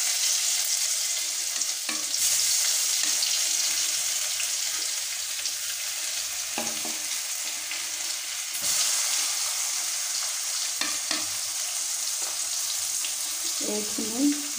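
Spices and onion fry in hot oil with bay leaf, cloves, cinnamon, cumin, ginger, pepper and a chili, a steady close sizzle broken by occasional stirring scrapes, with brief quiet voice near the end.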